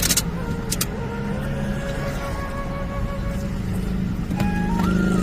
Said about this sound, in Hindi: आर्मी की गाड़ी है।